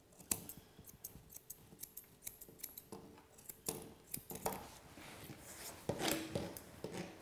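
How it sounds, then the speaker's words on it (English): Quick, crisp snips of scissors trimming a Labradoodle's hair, repeated in an irregular rhythm up close, with faint metallic clicks between cuts. "Make sure you lay your scissors nice and flat to the table so you can get all of that hair"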